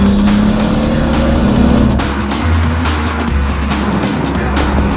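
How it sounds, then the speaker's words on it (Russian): A tuned Nissan Skyline R34 with a rare RB26 engine of about 400-plus horsepower revs loudly and continuously up close, its deep steady drone shifting pitch partway through as the throttle changes. "А пока я нажму газ."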